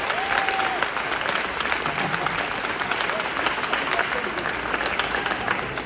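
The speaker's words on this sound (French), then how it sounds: "Applaudissez nos amis interprètes" Conference attendees applaud the interpreters, a steady crowd of hands clapping continuously at a moderate level, with a few voices briefly audible within it.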